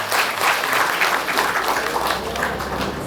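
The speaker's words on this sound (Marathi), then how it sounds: "जोरदार टाळ्या झाल्या पाहिजे" Loud, dense audience applause fills a college hall during a road safety awareness campaign, a steady wash of clapping hands that carries on without a break.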